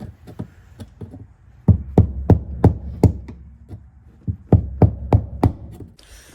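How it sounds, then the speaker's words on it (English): A small flathead screwdriver is tapped against a part of a 1972 Volkswagen Beetle left parked for over 35 years, giving crisp close knocks, a few light ones and then two quick bursts of about six taps each. "we're going to go at it with this little flathead right here just to see if we can tap it out"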